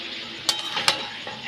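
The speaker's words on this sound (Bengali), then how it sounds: "একটু ভালো করে নেড়ে চেড়ে দিলাম" A spoon stirs snake gourd (chichinga) and shrimp curry in a pan, scraping in a few distinct strokes over a steady sizzle, close and fairly loud, with no voices.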